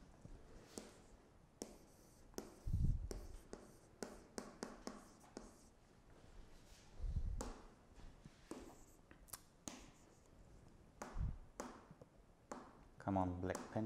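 Black pencil scratching and tapping across a board during a mathematics lecture on the suspension isomorphism, with short strokes and taps in irregular bursts, close by, among quiet handling noises.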